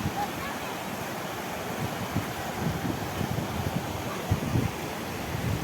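Chaparai waterfall at Araku rushes as a steady, dense roar of falling water heard close by and continuously, with occasional low thumps from wind against the microphone.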